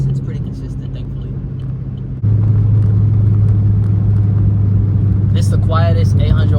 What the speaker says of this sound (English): This is the quietest 800 horsepower you ever gonna experience.